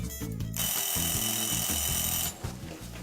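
A kitchen alarm timer rings in a loud continuous electronic trill lasting about two seconds, sitting over a pulsing background beat, then cuts off abruptly.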